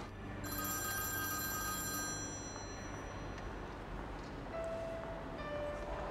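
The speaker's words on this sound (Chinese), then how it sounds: "电话。" A telephone rings steadily in an indoor room, its trilling tone running through the whole stretch at moderate loudness with no talking over it.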